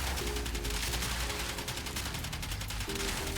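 The Twin Kohmak fires from the hip in the Warframe video game, a steady, dense stream of rapid shots, continuous and evenly loud throughout under a low game soundscape.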